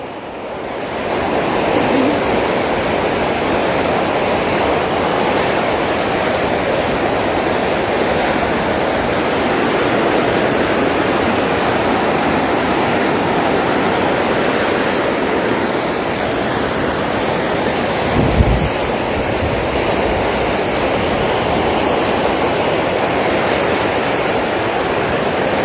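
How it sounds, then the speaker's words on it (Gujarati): Floodwater from the opened Ukai dam gates surges over a causeway on the Tapi river, a continuous roaring rush of waves like surf, with steady wind buffeting the microphone throughout. "હાલમાં કોઝવેમાં દરિયાની જેમ મોજા આવી રહ્યા છે"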